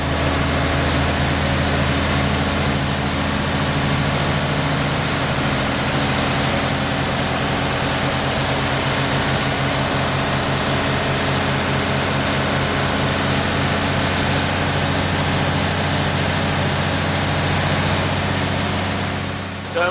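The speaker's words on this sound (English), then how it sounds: "you can start to hear the engine wind up and the turbo start to scream" A diesel engine running on vegetable oil at full power on a dyno, heard from outside, roars loud and steady throughout while a faint high turbo whine slowly climbs in pitch.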